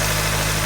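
A 2003 Ford Focus SVT engine runs in a short, steady burst, its even mid-low hum with a smooth, unbroken tone heard up close.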